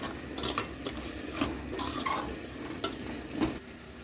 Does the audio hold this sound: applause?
no